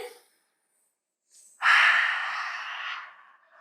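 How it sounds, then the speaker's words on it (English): A single big inhale during a kids' yoga breathing exercise, a loud, airy breath in lasting about a second and a half, heard alone after a short quiet gap. "Big breath in."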